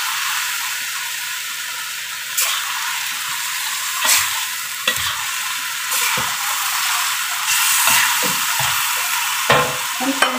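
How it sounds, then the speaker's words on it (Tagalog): Potatoes frying with lean meat and vegetables in a pan, stirred as they cook. A steady, close sizzle is broken by intermittent scraping strokes of the spoon. "Haluin para magpamasa ng patata."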